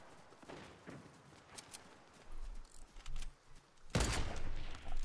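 Gunfire in a Fortnite ranked match: scattered, fairly quiet shots through the first half, then a louder burst of rapid fire near the end, with no talk.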